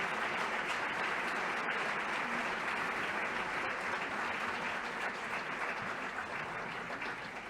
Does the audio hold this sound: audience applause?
yes